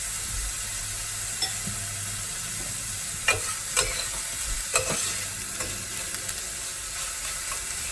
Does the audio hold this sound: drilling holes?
no